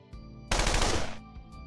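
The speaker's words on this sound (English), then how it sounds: "Outpace the gunshots" Sound-effect gunfire during a stream: one loud, dense burst of rapid machine-gun shots lasting under a second, close and alone.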